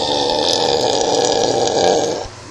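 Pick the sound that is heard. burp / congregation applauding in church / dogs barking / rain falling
burp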